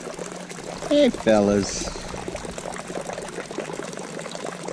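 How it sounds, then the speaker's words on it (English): Water trickles and pours steadily from a leaky faucet beside a canal in Key Largo, a continuous wet hiss beneath a man's brief, loud spoken greeting. "Come and take a drip out of the leaky faucet, drink."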